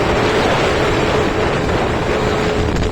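Strong wind buffets a phone microphone outdoors with a loud, continuous roaring rumble throughout and no other sound standing out.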